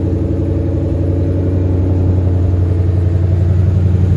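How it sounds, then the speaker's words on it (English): A 2022 Ford Mustang Shelby GT500 runs in sport mode, its engine a loud, deep, steady rumble heard up close with no voices over it. "we want to hear it in sport mode."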